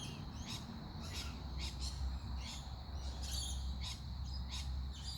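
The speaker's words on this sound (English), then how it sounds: "the birds you can hear are birds that have been in the" Birds kept indoors chirp in repeated short bursts over a low steady hum, fairly close, with no voices.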